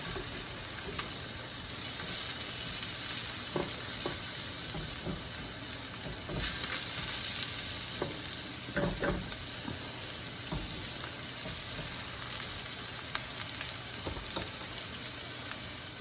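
Steak and egg hash fries in a pan with a steady, close sizzle and hiss, dotted with occasional louder crackles and stirring clinks throughout.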